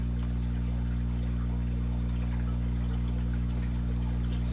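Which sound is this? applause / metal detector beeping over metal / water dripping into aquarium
water dripping into aquarium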